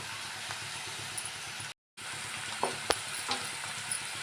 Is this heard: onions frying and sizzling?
yes